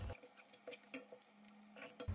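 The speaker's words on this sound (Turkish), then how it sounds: "Soğanlarımızı ara sıra karıştıralım." Chopped onions fry in a pan and are stirred, making quiet sizzling with a few soft scraping strokes of a utensil and light clinks, close and faint with no voices.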